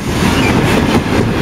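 Freight train of container wagons rolling past, a steady loud broadband rumble with rhythmic wheel clatter throughout, no voices.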